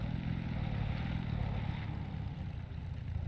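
An old-style race car engine in Scrap Mechanic, a fast build with no suspension, hums steadily with a low, throaty mid-pitched drone throughout, moderately loud with no voices.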